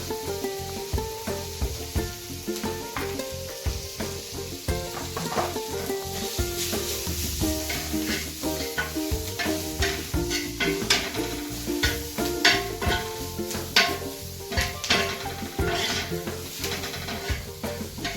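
Moth beans with turmeric and chili powder sizzle steadily in a pan while being stirred, with a constant fry hiss and frequent scraping, rubbing strokes at a close, even level.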